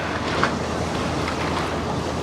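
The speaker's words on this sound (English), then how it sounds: "She moves through the water pretty good for a big boat too." Steady rushing water and wind noise as a large dive boat heads out off Bang Bao, Koh Chang, Thailand, loud and continuous with no voices.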